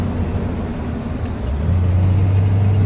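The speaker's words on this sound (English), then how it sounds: "There we go. That's full throttle right there." A 1993 Dodge W250 diesel truck engine held at full throttle, a loud steady low drone that swells and deepens into a heavier sustained roar partway through, with no voices over it.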